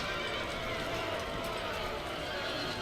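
Horses neigh and whinny amid galloping hoofbeats during an Empire: Total War cavalry battle, a dense, steady din of game sound effects with no pauses.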